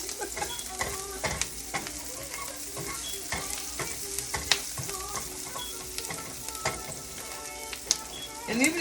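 Onions fry on high heat for beef stroganoff, a busy close sizzle peppered with crackles and the clatter of stirring, continuous and with no talk.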